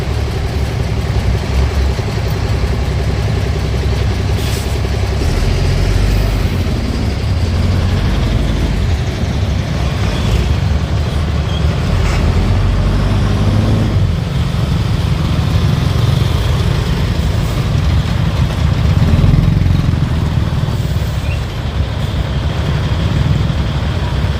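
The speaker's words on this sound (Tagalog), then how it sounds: "Matinding traffic dito sa bayan ng Lupi." Heavy, slow road traffic fills a street in the town of Lupi, Bicol, around December 23. A steady low rumble of idling and creeping car, truck and bus engines runs continuously, with faint scattered noise on top.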